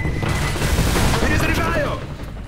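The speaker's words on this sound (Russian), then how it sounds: "Граната, ложись!" A grenade blast in Left 4 Dead rumbles loud and broad across the whole clip, mixed with gunfire-like crackle and dense game noise, while voices talk over it.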